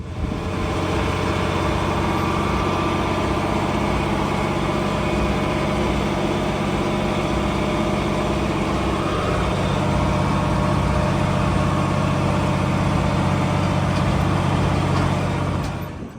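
A tractor engine runs steadily throughout while spreading fertilizer lightly over a field, a loud continuous low drone with no talk.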